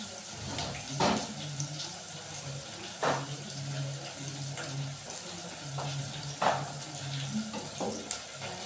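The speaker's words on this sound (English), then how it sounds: "My omena is cooking" Omena, small sardine-like fish, frying in a pan with a steady crackling sizzle, broken by a few louder sharp bursts and clatters spaced a couple of seconds apart, with a low hum underneath.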